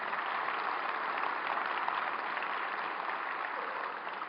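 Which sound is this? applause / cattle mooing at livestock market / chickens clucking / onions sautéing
applause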